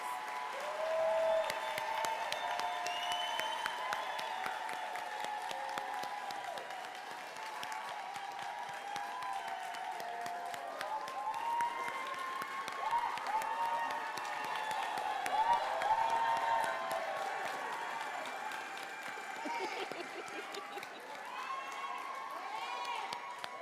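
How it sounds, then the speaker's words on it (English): Sustained applause and clapping from a crowd at a spring nursing class pinning ceremony, steady and dense over many seconds, with occasional cheers and voices mixed in. "Let's have a round of applause for the spring nursing class of 2026."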